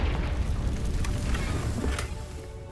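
Confringo blasting spell from Hogwarts Legacy erupting in a deep, rumbling boom that rolls on for a few seconds with crackling debris, loud and close before gradually settling.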